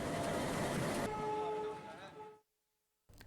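Mannargudi–Jodhpur Express train at Mannargudi railway station during its inaugural run, a loud rumbling roll with a sustained horn-like tone that fades out, then a brief return of noise, with speech present.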